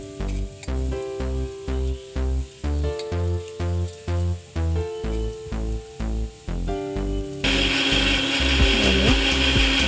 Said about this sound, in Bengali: মশলাটা বেটে নিচ্ছি মিক্সিতে